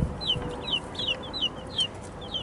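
Chickens in a coop give a steady run of bright, clipped clucks, about seven evenly spaced calls, close and moderately loud over a low background hum.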